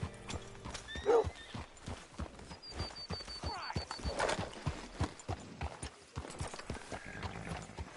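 Steady video game clip-clop of horse hooves on hard ground, with a horse whinnying near the start and some faint mechanical clanks in the background.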